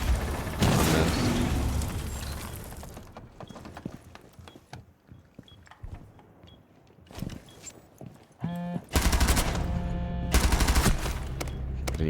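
Bursts of rapid automatic gunfire and single shots from a competitive shooter video game, loud and sharp, separated by quieter stretches of footsteps and game sounds.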